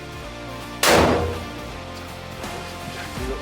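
A single sharp gunshot fired at buckets in a penetration test cracks loud and close, followed by a decaying echo and then fainter knocks.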